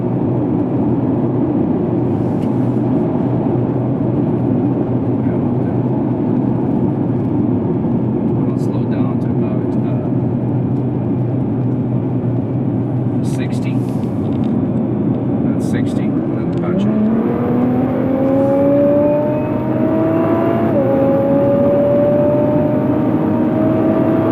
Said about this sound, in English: It's hard to hear the car with the road noise because of such a rough road